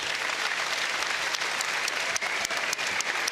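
An audience at an amateur boxing clash between British and American paratroopers applauds both boxers, a loud, continuous burst of clapping with scattered sharper claps standing out.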